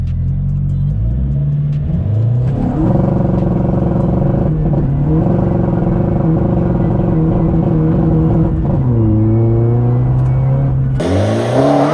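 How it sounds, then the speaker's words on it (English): A Skoda Fabia vRS PD launches hard from a standstill for a 0 to 60 run with tyres spinning, its engine revving loudly and close, climbing through gears with brief dips at each shift before easing off. "First ever 0 to 60 in my Fabia."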